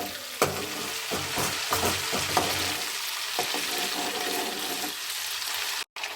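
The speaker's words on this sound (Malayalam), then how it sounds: "ഒപ്പം ഇളക്കി കൊടുക്കണം സൗണ്ടൊക്കെ നിന്ന് ലാസ്റ്റ് തെളി എണ്ണയായവരെ ഇളക്കി കൊടുത്താൽ മതി" Butter sizzling and crackling steadily in a pan while being stirred to make homemade ghee, with occasional sharper scrapes from the spoon, close and continuous before a brief cut near the end.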